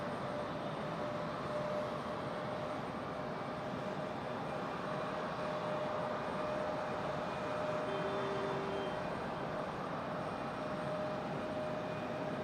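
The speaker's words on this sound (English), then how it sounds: "This flight 1904, Airbus A321, 200, coming in from Charlotte." An Airbus A321-200 arriving from Charlotte at Raleigh-Durham airport, heard as a steady, broad jet roar with a faint whine, constant in loudness throughout, without a clear approach or pass-by.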